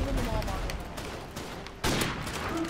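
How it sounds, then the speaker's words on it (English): Sniper gunfire in a first-person shooter video game: dense, loud crackling bursts of shots running through the whole moment, with a sharp fresh volley near the end. "I just sniped that man in the back and he didn't dead"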